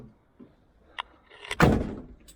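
A car door swings shut with a solid thud, preceded by a couple of faint clicks and followed by a brief rattle as it settles.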